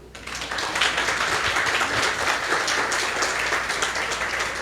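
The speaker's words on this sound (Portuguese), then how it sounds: "Podemos aplaudir." Audience applause at an evening business and testimony gathering, a steady wash of many hands clapping that rises quickly and holds for several seconds.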